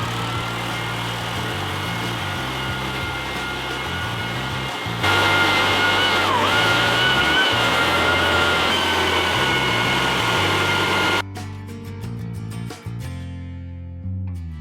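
An edge sander grinds a suspended wooden floor right along the skirting, a steady loud motor whine and abrasive roar running for about eleven seconds, surging in the middle, before cutting off abruptly into quieter rattling.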